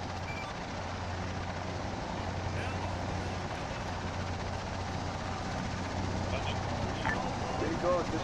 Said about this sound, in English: Is everybody in the choppers?